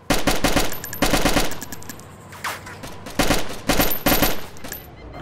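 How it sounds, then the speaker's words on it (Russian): Gunfire in the video game DayZ, loud close bursts of automatic fire repeating in short rapid volleys separated by brief pauses. "Стреляю!"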